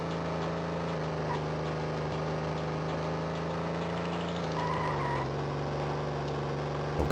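Car engine in the Game Boy Advance racing game Need for Speed Carbon: Own the City, a steady buzzy tone that drops in pitch partway through as if shifting, with no talking.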